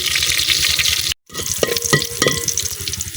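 Onions frying and being stirred in a pan over a village kitchen fire, a steady close sizzle with scraping stir strokes and a brief silent gap.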